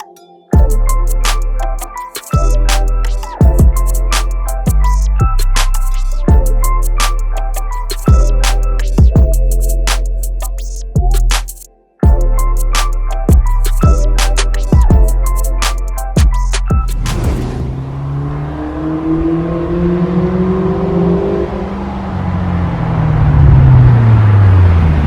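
A 1.2 Vauxhall Corsa with a new exhaust revs loudly in the final stretch, its pitch rising and falling in rough sweeps, after a long section of a steady, punchy music beat.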